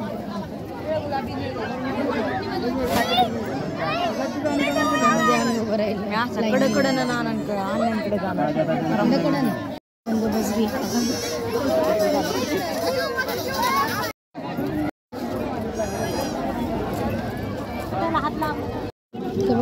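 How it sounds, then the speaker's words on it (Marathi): Dense crowd chatter in a queue at a temple in Shirwal, many voices overlapping in a steady loud babble throughout, with someone speaking nearby over the hubbub. "गर्दी बघा लय."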